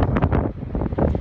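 Strong, gusty wind buffeting the microphone on a stormy shore during a fishing trip, with continuous low rumbling and bursts of roaring gusts and no voices.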